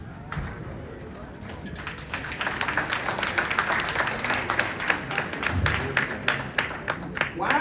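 A conference audience claps through a keynote address, a steady wash of many hands that builds after a quieter opening and keeps going throughout.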